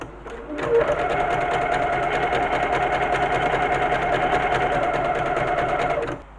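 Sewing machine stitching around three sides of a fabric tote bag, a rapid steady mechanical whirr with fine repeated needle clatter, starting and stopping cleanly, close and alone.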